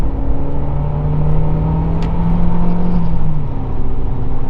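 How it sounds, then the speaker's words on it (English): Turbocharged Toyota Caldina GT-Four wagon with an automatic gearbox pulling at part throttle, a steady close engine drone with a short blow-off hiss and turbo flutter as the throttle lifts, with no speech. "a little bit of blow off noise there, a little bit of turbo flutter"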